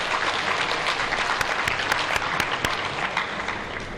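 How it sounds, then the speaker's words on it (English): An audience at a Uganda-China trade forum breaks into sustained applause for the Chinese government, loud dense clapping from a large crowd with a few sharp individual claps standing out. "please let us clap for the Chinese government"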